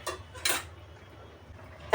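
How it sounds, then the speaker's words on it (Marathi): A metal lid set back onto a pot of milk while carrot halwa cooks, giving a couple of short clinks near the start and a sharp clatter at the end. "आता दूध घातले, परत झाकण ठेवले जरा वेळ"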